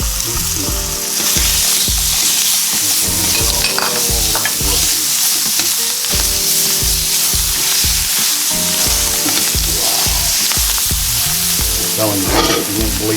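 Onions frying in a pan with browned beef for Salisbury steak, a loud, constant sizzle with rhythmic scraping and knocking as the mixture is stirred repeatedly.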